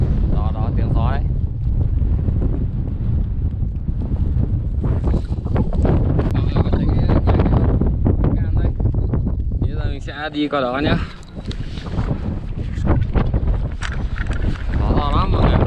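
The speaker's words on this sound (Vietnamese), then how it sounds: "tiếng gió đấy" Strong wind buffets the microphone on snowy Mount Fuji, a loud, continuous rumbling roar with gusty surges while a person speaks briefly over it.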